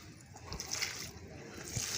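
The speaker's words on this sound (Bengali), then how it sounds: "গাছ এখন গাছে পানি দিয়ে দেবো" Water is poured onto a plant outdoors, giving a soft, uneven trickle and splash over a steady background hum.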